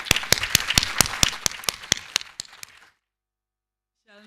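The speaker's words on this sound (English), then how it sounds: "Colleagues, shall we give him a big round of applause?" A small group of colleagues at a university professorial inauguration claps, with distinct sharp claps at a steady rhythm that thin out and stop after about three seconds, leaving silence before a brief voice.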